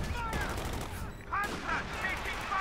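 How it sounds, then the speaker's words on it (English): Artillery and gunfire in a Company of Heroes 2 battle, several faint cracks and booms spaced irregularly beneath a commentator's voice. "Further artillery fire"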